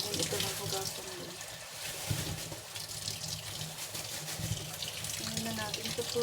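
Water runs from a tap into a sink while ground meat is washed, a steady close splashing stream with faint talking partly under it.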